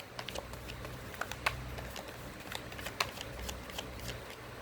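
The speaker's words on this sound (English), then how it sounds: "I will pull out some tarot cards for you" Tarot cards being shuffled and pulled from a deck during a Pisces reading, soft papery flicks and riffles repeating close by and faint over a quiet room, with no talking.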